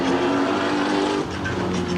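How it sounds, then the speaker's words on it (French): A stunt driver's car arriving in an arena track at a live show, its engine droning loudly and steadily close by with a sustained tone and slight dip midway. "Son arrivée au milieu de l'enceinte de la piste, Jean-Marie, un jeune cascadeur spécialiste du feu en voiture"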